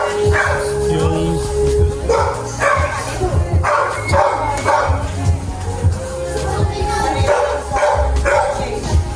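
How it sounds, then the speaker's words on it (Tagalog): A dog barks several times in short bursts at a family celebration in Dolores, Quezon, mixed in with close conversation and lively background chatter. "may aso din siya"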